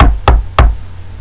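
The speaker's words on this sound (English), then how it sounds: "he knocked on the door" Three loud, close knocks land on a house door in a slow, even rhythm, each a sharp thud that quickly dies away, with no voices.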